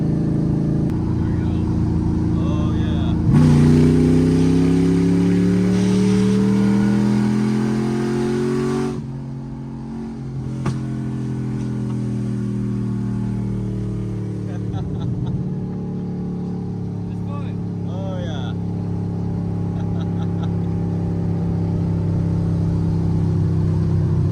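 An LS-swapped Mustang engine drones steadily at around 3,000 RPM while cruising at about 45 to 50 mph, with a loud harmonic hum that climbs and shifts in pitch as the car moves, heard from inside the cabin.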